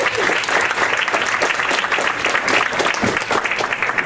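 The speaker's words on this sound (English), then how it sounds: "Can we please give her a big round of applause?" Steady audience applause at a Hempstead Village school-to-prison-pipeline community forum, a dense sustained clatter of many hands close by, with no talk over it.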